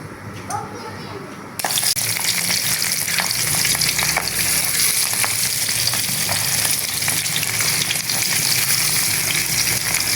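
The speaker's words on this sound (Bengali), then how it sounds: "পাবদা মাছগুলো আমি লাল করে ভেজে নেব।" Pabda fish coated in turmeric and chili hit hot oil and break into a loud, dense, continuous sizzle right up close, following a short quieter opening.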